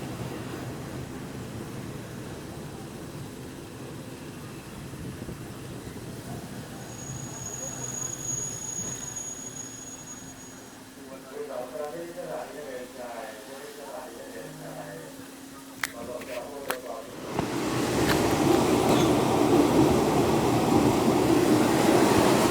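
Local train 426 rolls along the rails, a low steady running rumble with wheel squeal and rhythmic clatter, growing louder toward the end as it nears a station.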